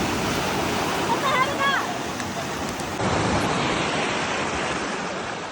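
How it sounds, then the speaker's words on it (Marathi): Small lake waves wash onto a pebbly shore at Mackinac Island, a continuous broad rushing surf with wind, fairly loud and close; a faint bird call chirps briefly in the first seconds. "पाण्याच्या लाटांचा आवाज ऐकूया"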